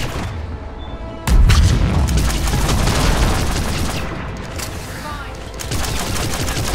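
Gunfire and explosions in Mass Effect 3 break out after a short quieter lead-in, becoming a dense, loud, continuous barrage of shots and booms with a brief dip before resuming.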